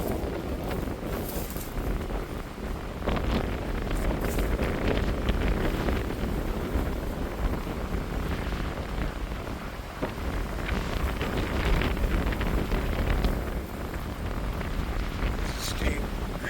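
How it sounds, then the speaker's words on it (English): Strong wind blows outdoors on steep, rocky terrain during cold-weather truck camping, a continuous loud roar and buffeting across the microphone with no break. "You hear that wind?"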